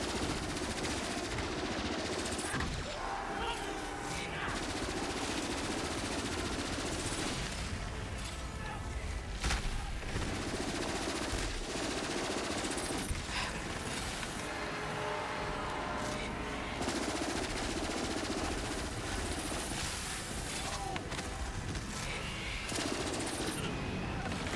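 Video game gunfire rattles in repeated bursts of automatic shots over a steady background din, moderately loud, with brief pauses between volleys.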